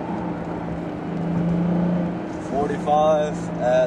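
Tanabe aftermarket exhaust on a G37 heard from inside the cabin at about 40 mph with the windows up: a steady low droning rumble that swells slightly, with someone talking over it.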